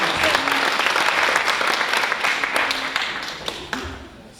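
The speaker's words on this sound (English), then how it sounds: "can we clap for them?" Steady, full applause from an audience at a teachers' awards ceremony in Johannesburg, dense clapping that holds for several seconds before easing off.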